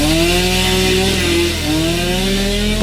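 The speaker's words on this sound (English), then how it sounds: "So she got a chainsaw." A chainsaw roars loud and close without pause, its engine pitch sliding up and down as it revs and bites into wood.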